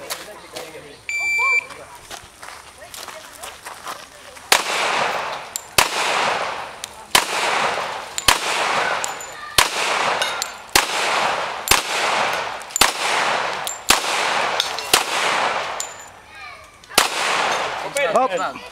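At an outdoor shooting range, a start beep is followed by about a dozen loud, close gunshots in quick, irregular bursts, with voices faintly in between.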